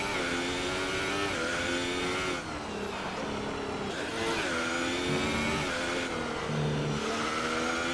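An F1 car in a racing video game pushing through the final sector of the Germany circuit, its engine note screaming steadily with shifting pitch and brief dips between gear changes, loud and continuous.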